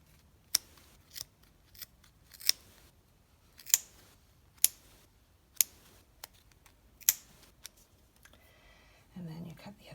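Scissors snip through yarn for a mini pom pom garland, about a dozen sharp crisp cuts at uneven intervals, close up, with a soft rustle at the end.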